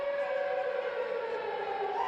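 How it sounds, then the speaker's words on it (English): A loud, sustained siren wails steadily inside an ice hockey arena at Ice Sheffield as the players head out onto the ice for a university varsity game, holding one continuous tone without any talk over it. "The sirens go, setting the tone."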